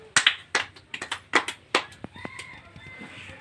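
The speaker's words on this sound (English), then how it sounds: "Clap for her." A few people clap for a young girl in a vegetable-naming lesson, a brief burst of distinct, close hand claps in quick irregular rhythm that fades into quieter sounds.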